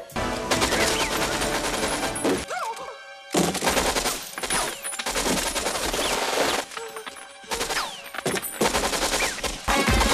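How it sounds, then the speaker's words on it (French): A Mac 10 submachine gun fires in an action scene from the film True Lies, with dense rapid bursts broken by brief gaps, loud and chaotic, mixed with movie effects. "Ceci est un pistolet mitrailleur Mac 10 de 32 coups"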